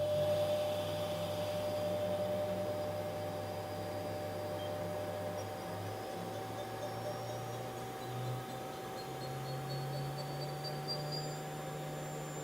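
The spindle of a 2007 Mori Seiki NT4300 DCG multi-axis CNC turning center spins at 6,000 RPM, giving a steady, moderately quiet machine whine with hum that climbs in pitch partway through as it speeds up. No one speaks.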